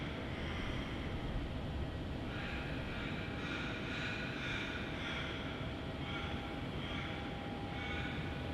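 Continuous broadband roar of a jet aircraft at Melbourne Airport, likely a Qantas flight on its takeoff roll, steady and fairly distant with a faint tonal whine on top and no talk.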